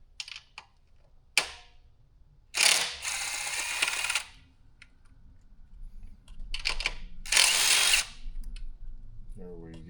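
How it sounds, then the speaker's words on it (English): A 10 mm deep socket on a power driver removing bolts from an Arctic Leopard XE Pro S Enduro e-bike, with two loud sustained whirring bursts, sharp clicks and clinks of metal parts between them. "Got my 10 mil deep socket."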